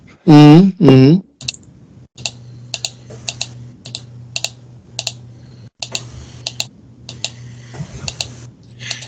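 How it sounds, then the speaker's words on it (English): Computer keyboard and mouse clicks picked up over a voice chat, sparse irregular taps and clicks spaced across the clip over a low steady hum, after a brief loud burst of sound at the start. "is my clicking audible showing up in the channel?"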